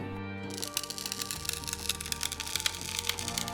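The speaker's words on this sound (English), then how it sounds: "Plexiglass is a little flexible, which helps to detach it from the resin, and the sound of it is really unusual." Quiet crackling and splintering as flexed plexiglass detaches from cured epoxy resin, brittle creaking and snapping in a rapid irregular series, close up over a steady low hum.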